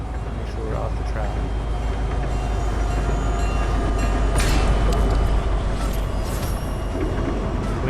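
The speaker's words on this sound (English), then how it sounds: "So the train's coming." A train in the Fortnite Zero Build game rumbles past as a steady, loud, continuous roar with faint clatter throughout, with a brief louder swell near the middle.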